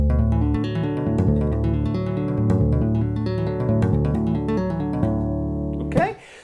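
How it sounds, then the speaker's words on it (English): Two-handed tapping lick on unaccompanied bass guitar, a fast, steady run of ringing tapped notes played alone, ending with a short noisy scrape. "Okay, so the lick that we're going to be looking at today sounds like this."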